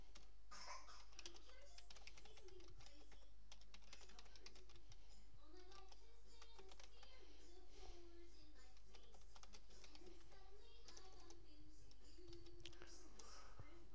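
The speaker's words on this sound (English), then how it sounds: "you just type in your name" Someone types a name on a computer keyboard to sign up for database software, producing quick, light, irregular key clicks close to the microphone over a low steady hum.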